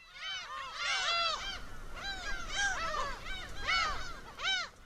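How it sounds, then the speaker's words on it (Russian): A huge black-tailed gull colony on Furugelm Island in the Sea of Japan, with many birds calling at once in overlapping nasal, honking cries that rise and fall in waves, close and fairly loud. "Это чернохвостая чайка, шумный хозяин этих мест."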